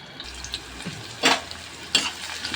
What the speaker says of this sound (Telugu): ఫస్ట్ మనం వేయాల్సిన బిర్యానీ ఆకులు ఒక రెండు వేసుకుని తర్వాత ఆనియన్స్ అయితే వేసేద్దాం